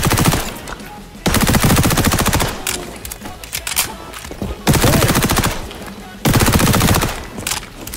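An MP5 submachine gun fires at the shooting range in the video game XDefiant: loud, rapid bursts of automatic fire repeat several times, separated by short quieter pauses.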